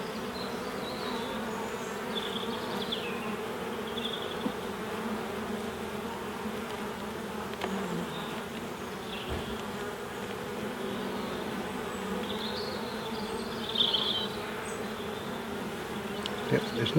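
Honeybees in an open hive hum in a continuous low drone, with occasional closer buzzing bees whining past and a few faint knocks near the end.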